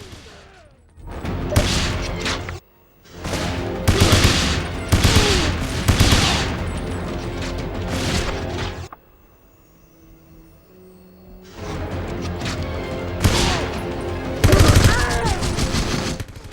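Bursts of gunfire from guards in the James Bond video game 007: Everything or Nothing, with loud rapid volleys in repeated clusters, a quiet gap partway through, then more sustained firing.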